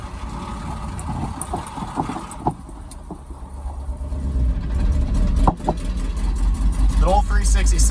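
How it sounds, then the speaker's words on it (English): A Chevrolet C60 truck with a 366 engine and damaged exhaust manifolds drives along, its engine a steady loud rumble that swells toward the end, with a person talking over it. "The old 366 with some screwed up exhaust manifolds sounds pretty interesting."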